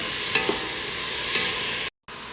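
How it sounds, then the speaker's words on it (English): Garlic being stirred into a venison meat mixture in a pan for taco soup: a steady sizzle with a couple of brief scraping stirs, then a short cut to silence near the end. "we're going to go in with a heaping tablespoon of garlic. Going to give that a stir"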